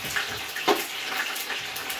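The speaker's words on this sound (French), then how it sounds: "Je vais rincer mon plat et je le fais monter." Tap water runs steadily into a sink as a cooking dish is rinsed, a continuous close splashing hiss with a brief louder splash near the start.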